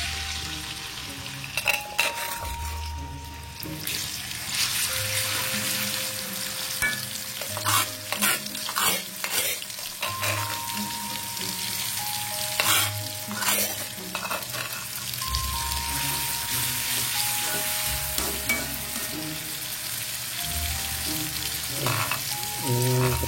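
Chili and other sambal geprek ingredients fry in hot oil over moderate heat, a continuous close crackling sizzle with frequent scraping and stirring of a utensil against the pan.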